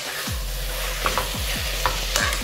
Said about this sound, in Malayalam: ഇങ്ങനെ ഇളക്കുക. തക്കാളി ഒരുമാതിരി മെൽട്ട് ആവണം,